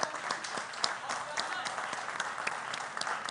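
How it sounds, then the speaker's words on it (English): Steady applause fills a school quiz semi-final between St. Augustine's College and Presec, Legon, broad and continuous from a seated audience, with scattered sharper claps standing out and a voice talking faintly underneath. "Clap for each other."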